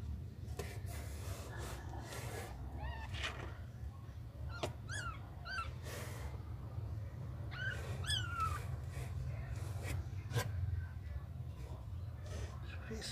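Thin, high-pitched mews from a litter of six small kittens come in short bursts over a low steady hum, with quiet voices in the background.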